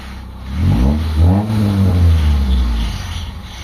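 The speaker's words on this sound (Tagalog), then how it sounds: "bigla na lang nag-check engine tapos namalya yung makina natin" A Mitsubishi Lancer with its check-engine light on misfires and loses power while driving, giving a rough, uneven engine drone that rises and falls close by, with no talk over it.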